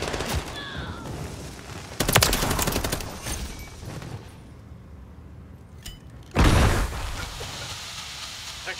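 Call of Duty combat gunfire, sustained rattling fire with a dense burst early on and a second loud volley later, heard over a steady noisy battlefield background without talk.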